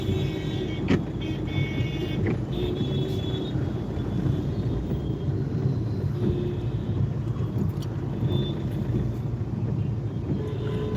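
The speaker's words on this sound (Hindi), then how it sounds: "थोड़ा ट्रैफिक जाम है," Car interior road noise while driving through a traffic jam, a steady broadband rumble with occasional faint clicks and higher tones, no talk.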